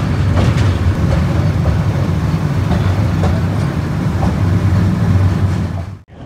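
Parjatak Express passenger train crossing the Karnaphuli bridge, a loud, steady rumble of wheels and carriages with faint rhythmic clatter, heard from onboard, cutting off abruptly near the end.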